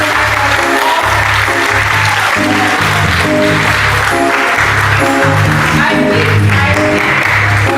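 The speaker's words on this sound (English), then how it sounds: "Give her a round of applause" Applause from the audience at an International Women's Day awards ceremony, honoring a retired primary school principal; sustained, dense clapping fills the room throughout, with a rhythmic low-pitched beat or music pulsing underneath.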